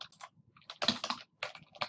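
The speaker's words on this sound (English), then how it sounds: "type the rest of your email" Quick bursts of clicky computer keyboard typing while writing an email, several close, crisp clusters of keystrokes separated by short pauses, with no talking.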